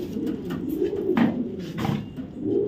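A large male grizzle racing pigeon, a club bird from BRPFC 2023, gives a run of close, throaty coos in repeated pulses, heard alone without talk.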